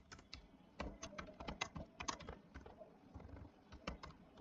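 Quick, uneven keystrokes on a computer keyboard, with irregular bursts of clicking close to the microphone and no voices.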